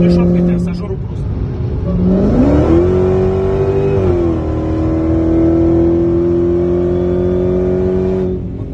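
A Dodge Challenger engine revs hard and accelerates while racing a McLaren, its loud, steady roar climbing in pitch and holding high for several seconds.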